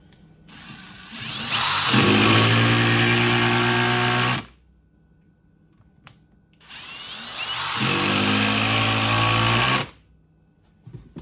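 A Milwaukee M18 Surge impact driver drives 3.5 inch wood screws in two loud bursts, each whirring and hammering for about two and a half seconds with a quiet pause between them.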